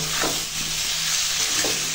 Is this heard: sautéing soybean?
yes